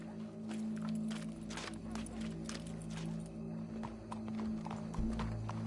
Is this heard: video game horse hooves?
yes